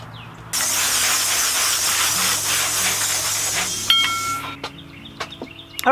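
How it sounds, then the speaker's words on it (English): Garden hose spraying water to wash dirt off plants in a backyard vegetable bed of lettuce and celery, a steady loud hiss that stops abruptly, followed by faint clicks and birdsong. "So let me kind of spray this off and clean off all that dirt."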